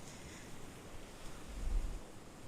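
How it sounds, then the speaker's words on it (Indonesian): Ocean waves breaking on the shore, a soft steady wash of surf with a low swell rising near the end, distant and fairly faint with wind noise and no voices. "ada deburan ombak"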